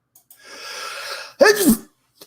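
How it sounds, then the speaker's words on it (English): A single close sneeze, a drawn-in breath building up before the sharp burst. "Just a sneeze"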